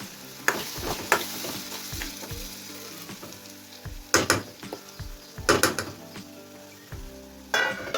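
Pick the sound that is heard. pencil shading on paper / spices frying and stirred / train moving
spices frying and stirred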